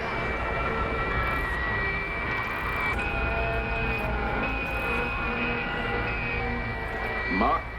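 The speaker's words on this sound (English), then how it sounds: "I'll increase the thrust to Mach 80." Steady roaring spacecraft engine thrust in a space video game, a loud continuous whine and rumble with shifting tonal hums that swell slightly near the end.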